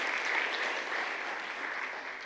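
Sustained applause fills a church during a Sunday service, steady and dense clapping from the congregation throughout without a break.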